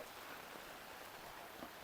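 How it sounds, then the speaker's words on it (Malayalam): Steady, dense rain hissing continuously, an even wash of noise with no breaks. "നല്ല മഴയാണ്"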